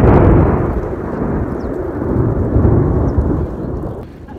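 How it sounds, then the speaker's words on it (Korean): Loud rumbling thunder rolls through a sudden downpour in Cusco, Peru, a heavy broad roar with rain hiss that slowly fades over a few seconds. "천둥 소리."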